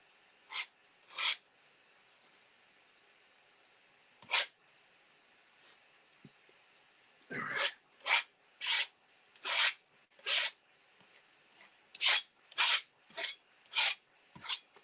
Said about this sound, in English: I'm kind of scraping it off and then putting it back on, and then scraping it off, putting it back on